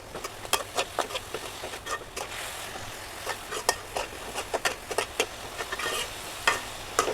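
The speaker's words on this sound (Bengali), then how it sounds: "আর একটু হালকা ভালোভাবে ভেজে নেব আমি এগুলো।" Spiced ingredients with ground coriander fry on high heat in a pan, a steady close sizzle under frequent sharp scraping taps of a spatula stirring in an uneven rhythm.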